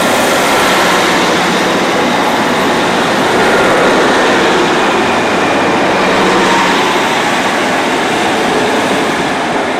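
A train rumbles past a station at close range, a loud continuous roar of wheels and engine that holds steady throughout without any speech.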